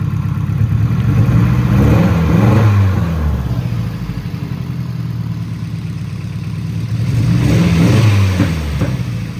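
A 1989 Nissan 240SX engine with a jammed, faulty fuel injector revving up twice and dropping back to a rough, uneven idle between the revs, close and loud, with no voices.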